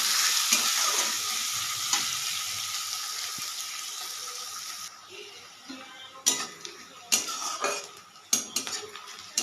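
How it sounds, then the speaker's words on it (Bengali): Onions hiss and sizzle steadily in hot oil in a pan with dried red chilies, browning for a Bengali rohu fish curry. After a few seconds the sizzle thins and several sharp spatula clanks and scrapes against the pan break in. "এবারে পেঁয়াজটাকে লাল করে ভেজে নেব।"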